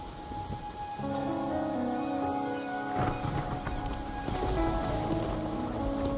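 Steady rain patters in the video game Wuthering Waves over a soft ambient musical background, with a few brighter drips standing out; continuous and moderately loud throughout, no talking.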